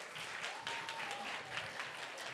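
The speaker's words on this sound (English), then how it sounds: "Round of applause. Let's go." A distant, steady wash of audience applause at a youth poetry slam semi-final, many hands clapping evenly throughout without a break.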